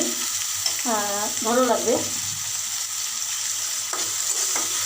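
Cabbage stir-frying in a pan with onion and green chili, a steady close sizzle under a woman's brief spoken remark, with faint scraping of the utensil.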